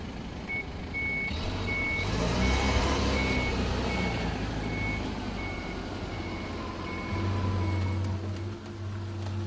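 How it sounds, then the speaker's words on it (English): A forklift truck backing away in a warehouse, its reversing alarm pulsing in steady repeated beeps over a continuous engine and drive hum. "Reverse is then selected, the inch brake released, and the accelerator pressed down to back away"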